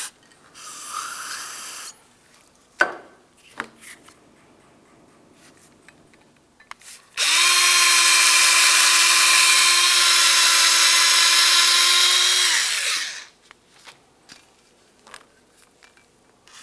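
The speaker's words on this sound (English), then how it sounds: "We'll use some parts cleaner and a bore brush." Parts-cleaner spray and a bore brush work in the slider ports of a rear brake caliper on a 2009-2019 Ford Flex. One long, loud, steady hiss lasts about five seconds, framed by shorter bursts and faint scrubbing and clicks.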